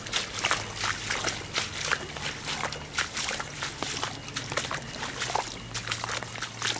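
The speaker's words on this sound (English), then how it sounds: "Water is spilling over all this house." Floodwater from a blocked drain spills over a residential yard after rain, a continuous trickling, sloshing flow with bubbling splashes and a low steady hum underneath, close and even throughout.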